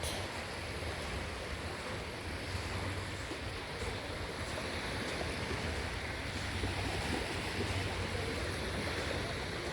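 Steady wash of surf rolling in at Ha Pak Nai Beach, Yuen Long, Hong Kong, with continuous broadband noise and some wind, no voices.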